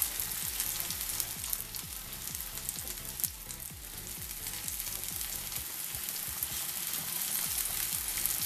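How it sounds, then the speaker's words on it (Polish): Onion fries in a pan for quick scrambled eggs with tomato, a steady close sizzle and crackle with a faint rhythmic ticking running through it, no one talking. "Właśnie cebulka ładnie smaży."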